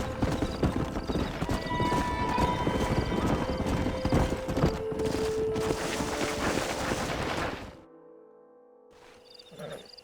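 Horse hooves clip-clop steadily and loudly alongside neighing and whinnying in Red Dead Redemption, with insects chirping in the background, before the hoofbeats stop abruptly near the end, leaving quieter ambient sound.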